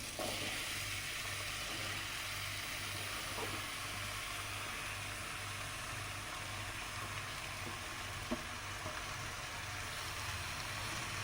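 Ridge gourd sautéing in a pan with onion and tomato for peerkangai chutney, giving a steady broadband sizzle with a low rhythmic hum underneath and a few faint clicks, continuous and close throughout.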